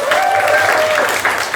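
Lecture audience applauding with steady clapping throughout, dense and moderately loud, with a faint voice or tone threading above it.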